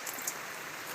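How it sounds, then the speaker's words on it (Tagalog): Heavy, unceasing rain falls around a river raft, a steady soft hiss of countless drops with a few slightly brighter patters, fairly faint and with nobody speaking. "Grabe talaga ang ulan, ilang araw na."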